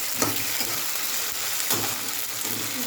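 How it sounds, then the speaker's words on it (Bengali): Fried potatoes sauté with ginger-garlic paste in a pan, a dense continuous sizzle with a couple of sharp spoon scrapes, close and even throughout. "এবারে ওই যে আদা রসুন বাটাটা দেবো, এই দিলাম। এটা দিয়ে কষাবো"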